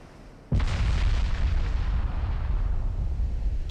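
Heavy naval guns from 7-inch and 9-inch batteries boom in the Ultimate Admiral Dreadnoughts naval warfare game, opening with a sudden loud blast and rolling on as a sustained, dense rumble of gunfire and explosions.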